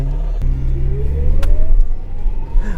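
A car passes close by on a narrow mountain road, its engine rumbling loudly and rising in pitch as it revs and accelerates past, with no talking.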